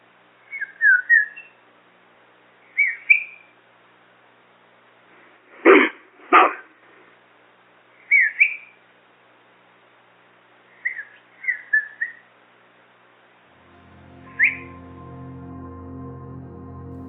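A series of short rising and falling whistles repeated at intervals, faint and sparse against silence, compared to an ape's call, with two louder broadband bursts midway and a low tonal hum entering at the end.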